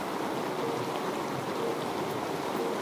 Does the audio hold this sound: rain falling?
yes